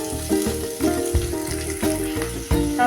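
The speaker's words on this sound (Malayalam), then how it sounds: "സവാള 3 എണ്ണം കണ്ടിച്ചത്. നമുക്കതൊന്ന് നല്ലോണം വാട്ടിയെടുക്കാം." Three sliced onions sautéing in a pan for crab curry, a continuous close frying sizzle with rhythmic stirring scrapes about every half second.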